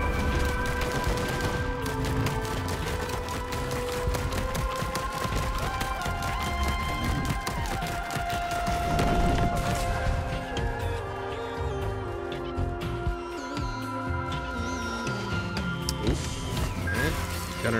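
The gunner turret in the Risk of Rain 2 video game fires a steady stream of rapid shots. The rattle goes on continuously under busy game effects and tones, and a voice can be heard faintly.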